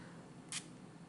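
A coconut-scented facial mist sprayer gives one short, soft hiss of spray, close by, in an otherwise quiet room.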